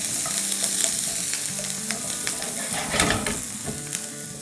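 Potato kofta sizzles steadily as it fries in a hot spiced tempering, with repeated scraping stirs that scrape and clatter through the constant close, loud crackle.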